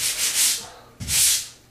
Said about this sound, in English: Done with the sanding